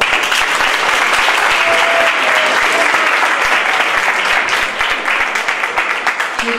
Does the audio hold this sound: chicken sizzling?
no